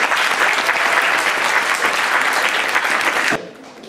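An audience at an Udichi cultural event in New York applauds, dense clapping that holds steady and loud for about three seconds before cutting off abruptly.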